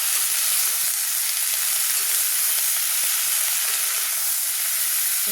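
Spices such as turmeric, chili, coriander and cumin powder sautéing with cauliflower and radish for a homemade fish curry, a loud steady hissing sizzle with faint stirring taps, close and continuous, no voices.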